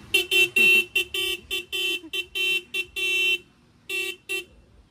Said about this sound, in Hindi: ये देखो यार हॉर्न लगे डबल डबल हॉर्न साइकिल में।